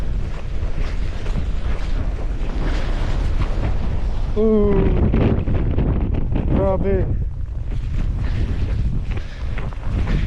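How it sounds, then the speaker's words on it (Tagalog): Strong wind in a winter storm in Canada, loud roaring gusts buffeting the microphone continuously, with a person briefly speaking partway through. "Malakas ng hangin."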